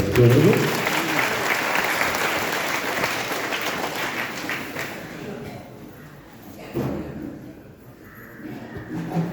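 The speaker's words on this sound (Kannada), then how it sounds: "ಜೋರಾಗಿ ಚಪ್ಪಾಳೆ" Loud applause from a crowd at a Digambara Jain muni diksha ceremony at the Neminatha Jina temple in Harige, thick and sustained at first, then thinning out after about five seconds into quieter sounds.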